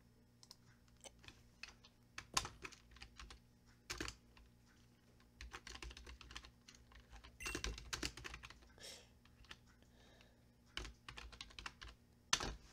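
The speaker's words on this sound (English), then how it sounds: "I'm making a little list if you're wondering what that typing is." Bursts of typing on a computer keyboard at a streaming desk, clusters of quick clicky keystrokes separated by pauses over about thirteen seconds, close and fairly quiet.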